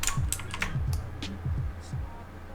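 A computer keyboard is pressed during an After Effects animation tutorial: soft, close key clicks tap in a light irregular rhythm, fairly quiet, with no talk over them.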